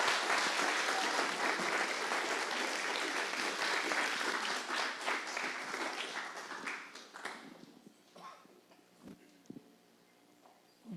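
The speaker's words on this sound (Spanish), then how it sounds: "recibamos con un caluroso saludo y un aplauso a la doctora Ana Teresa Bernal" Warm applause from an audience at a public accountability event, dense and loud for about seven seconds, then thinning into scattered claps and faint room noise.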